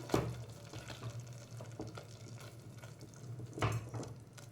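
Guvar (cluster bean) curry being stirred with oil in a pan, soft scraping and clinks of a spoon against the pan with two louder knocks, close and alone under a faint steady hum.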